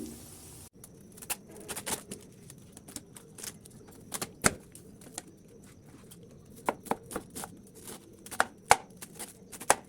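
Potato and carrot chopped for vegetable pakora: quick, irregular knife taps on a cutting board, close and crisp, in uneven bursts.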